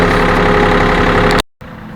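A tractor pulling a box trailer runs loud and close, a steady mid-low engine drone that cuts out briefly near the end before the rumble resumes.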